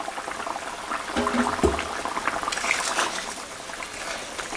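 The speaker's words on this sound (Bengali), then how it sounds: "ঢাকাটা দিয়ে দিলাম, 5 মিনিট ফুটুক, তারপরে মাছটা দেব।" Mustard-poppy gravy for tilapia bubbles in a covered pot, a soft steady simmer with small watery pops and a couple of brief clinks, heard alone at close range.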